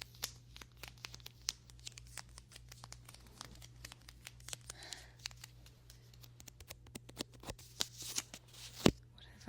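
Close, soft crinkling and peeling of a plastic sticker, handled in a quiet room, with irregular crisp rustles and small snaps that grow louder toward the end.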